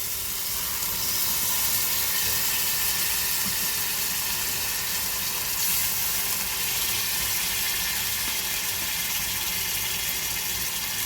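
Coconut milk hits a hot pan of small prawn malai curry, setting off a sustained, loud hissing sizzle that holds steady throughout with no talking.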